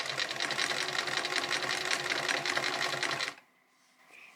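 A sewing machine runs steadily, stitching denim for a skirt, its rapid needle chatter continuous and close for about three seconds before cutting off into near silence.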